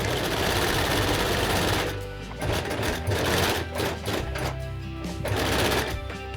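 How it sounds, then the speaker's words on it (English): A sewing machine runs in steady bursts while stitching two coat collar pieces together, right sides facing, from the joining mark to the neckline; the close, loud whirring motor and rapid needle chatter pause briefly around two seconds, then resume. "sew from the joining mark up to the neckline"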